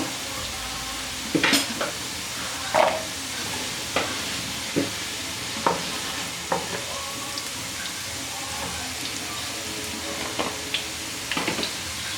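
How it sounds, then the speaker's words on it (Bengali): Potatoes fry in oil in a pan with a constant sizzling hiss, while a utensil scrapes and knocks against the pan every second or two as they are stirred. "আলু ভাজা হয়ে গেছে এখন আমি আলুগুলো"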